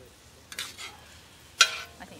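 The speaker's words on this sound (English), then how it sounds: "And now, we're going to let this whole thing simmer." Carne asada and vegetables cooking together on a plow disc, a faint low sizzle broken by two short bright bursts of scraping or stirring, quiet between them.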